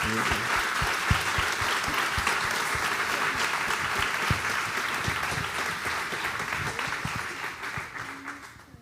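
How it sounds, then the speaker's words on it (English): An audience at a Neuralink presentation breaks into applause, dense clapping with some sharper individual claps standing out, fading gradually toward the end. "I just want to give one round of applause to all the people who made that possible"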